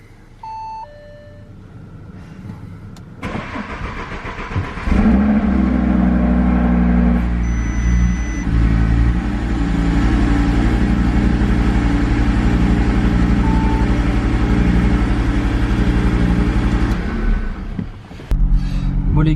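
An Audi RS3 engine cranks and fires with a loud burst, then settles into a steady, rumbling idle close by for a long stretch before cutting off, with a few short beeps just before the start.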